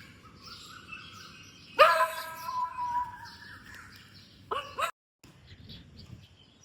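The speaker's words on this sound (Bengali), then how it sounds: "আমাদের এখানে প্রচুর গাছ পাওয়ার জন্যে অনেক পাখির ডাক শোনা যায়" Birds chirping nearby in a tree-filled residential complex, a sudden burst of bright descending calls followed by a few scattered tweets against quiet background noise.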